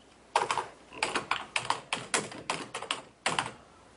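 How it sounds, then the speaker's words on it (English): Typing on a computer keyboard while entering a local address in Peru into an online form: quick irregular bursts of key clicks with short pauses, close and moderately loud, no voices. "let's type any address local here in Peru"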